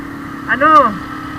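A Honda CB150R motorcycle engine revs briefly, rising and falling in pitch over a steady idle, loud and close.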